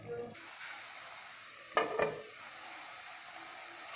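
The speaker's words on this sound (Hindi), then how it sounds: "गैस को मीडियम फ्लेम रे रखी पुदीना पेस्ट को टे सीझा छाड़दबा।" Mint paste frying in a pan over a medium gas flame for mint rice, with a steady soft sizzle, a couple of brief utensil scrapes partway through and a clink at the end.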